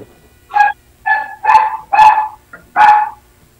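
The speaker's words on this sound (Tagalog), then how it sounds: "Kasi nung aso po kasi yan, ang ingay." A dog barks five times in a steady series, loud and close, with a short yip between the later barks.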